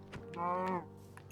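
A single cow moos in the video game Minecraft, one drawn-out low bellow lasting under a second, fairly close and clear with nothing else over it.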